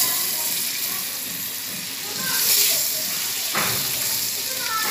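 Butter tempering spits and sizzles over sarson ka saag in a pan, a steady soft hiss that swells briefly midway, close and fairly quiet.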